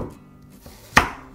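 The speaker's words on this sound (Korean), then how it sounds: "먼저 무 한 조각을 썰어줍니다" A knife chops once through a piece of radish on a cutting board, a single sharp, close thud amid otherwise quiet surroundings.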